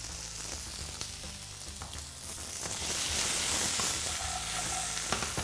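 New potatoes seasoned with black pepper and salt sizzle steadily in a hot pan, the frying hiss swelling louder halfway through as they are tossed, with occasional soft clinks and no talking.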